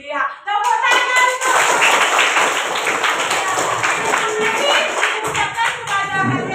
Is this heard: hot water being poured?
no